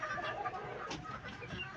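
Chickens clucking softly in a steady, busy stream, with faint farmyard background noise throughout.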